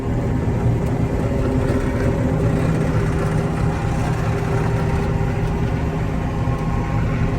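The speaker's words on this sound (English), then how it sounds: "I'm going to turn this thing around and show you what the combine's doing" A combine harvester cutting double-crop soybeans, its header and reel taking in the beans, gives a steady, loud, dense machinery drone with a low engine rumble running unbroken throughout.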